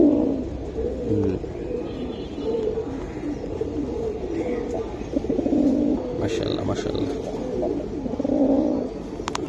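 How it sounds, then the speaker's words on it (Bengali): Silver giribaz pigeons coo in repeated low, throaty bursts close by, with people talking over and between the calls. "এটা সিলভার কবুতর, লাল গিয়ার"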